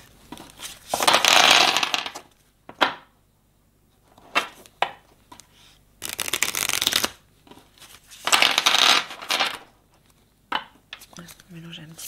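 Playing cards being shuffled in bursts, several loud riffles and bridge-like flutters separated by short pauses, close to the microphone, with a voice speaking briefly between them.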